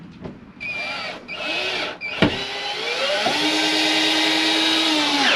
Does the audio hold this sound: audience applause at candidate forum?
no